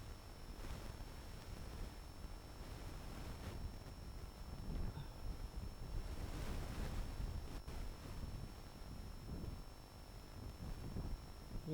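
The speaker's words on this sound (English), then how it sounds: "this does get a lot of wind up in this particular area, Garrison area as it's called" Strong wind buffets the microphone on the coast at Garrison, St Marys in the Isles of Scilly, a steady low roar with gusts swelling and easing throughout, close and loud, with no voices.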